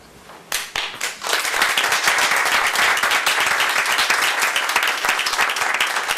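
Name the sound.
applause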